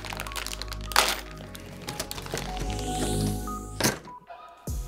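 Stiff plastic bag holding Andis clipper guards is cracked, crinkled and tugged open, with sharp snaps and crumpling bursts, loud and close, no voice.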